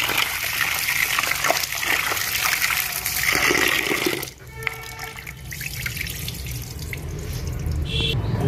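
Tap water runs steadily into a sink while tilapia fish are washed, loud and close for about four seconds, then softer splashing and trickling as the flow changes.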